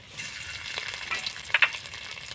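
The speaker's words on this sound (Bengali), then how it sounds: "এবার আমি হালকা ভেজে নেব" Grated ginger and chopped green chilli frying with panch phoron in mustard oil in a karahi make a quiet, close sizzle and hiss, with a couple of brief stirring clicks. No one speaks.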